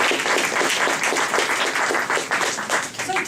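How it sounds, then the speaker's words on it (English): An event audience at a Lean celebration day in 2016 breaks into dense, steady applause, many hands clapping loudly and continuously throughout. "let's applaud ourselves for the work that we've done."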